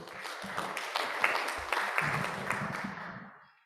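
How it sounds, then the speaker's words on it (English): Audience applause at a morning business panel session of a Dallas dealmakers program, a steady mid-level patter of many hands that holds for a few seconds, then tapers away to quiet. "And a round of applause for you guys too"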